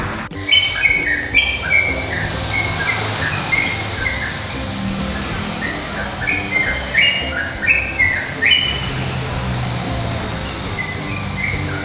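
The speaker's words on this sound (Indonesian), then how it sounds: "Burung trocoan bisa berbunyi sangat bagus, bandul-bandul seperti ini." Sooty-headed bulbul (trocokan) kept at home sings a repeated series of bright, clear chirping phrases, loud and close, over a steady hiss of crickets and insects, with no talking.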